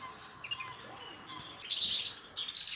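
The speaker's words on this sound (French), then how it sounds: "Donc ici il y a plus ou moins 70 canaris dans cette volière-ci." Canaries, about seventy in an aviary, chirp and twitter continuously, with bright trills swelling louder toward the middle and end; no talk over the birdsong.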